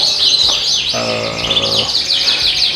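Dense, bright chirping and trilling from several small Yorkshire canaries in a breeding room, loud and close, with a short pulsing buzzy call in the middle.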